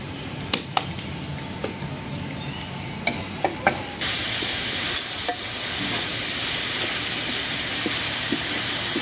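Garlic and onion fry with cumin in oil, a continuous sizzle close to the pan with occasional sharp pops and stirring clicks, growing louder and denser partway through.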